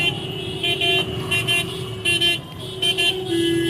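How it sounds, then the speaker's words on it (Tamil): Busy Calcutta street traffic: a constant rumble of engines with repeated short horn blasts, several honks sounding in quick bursts near and far, and one long toot at the end. "பாருங்க டிராஃபிக், பாருங்க கல்கட்டா டிராஃபிக்கு."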